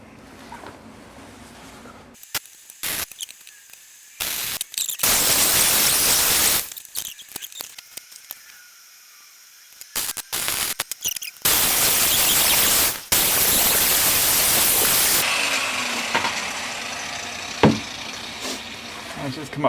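Crackling buzz of MIG welding on a Porsche 928 body, close and loud, in several short bursts and longer runs separated by pauses, with a voice speaking briefly toward the end.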